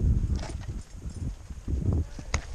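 Horse hooves clip-clop along a trail in an uneven walking rhythm, with faint rustling and soft background noise between the steps.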